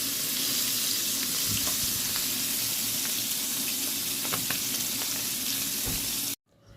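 Squid frying with garlic in hot oil makes a steady, dense sizzle with occasional popping splatters, close and continuous, cutting off abruptly near the end.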